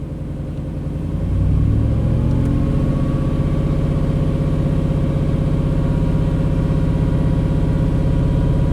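A 1991 Chevy K1500 pickup engine rises from idle into a held rev under throttle, a loud close steady rumble that swells after the first second and then sustains evenly.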